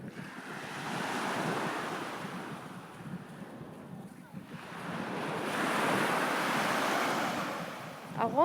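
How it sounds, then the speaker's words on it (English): Sea waves breaking on the shore at Palm Bay, rising and falling as two long surges with wind buffeting the microphone, heard up close and loud. "wave sound when we're talking"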